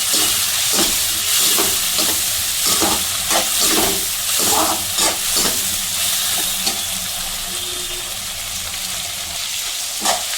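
Tomatoes fry with onions and chillies in a pan for an aloo baingan sabzi, a loud, continuous crackling sizzle broken by repeated scraping stirs of a spatula, close and unaccompanied by talk.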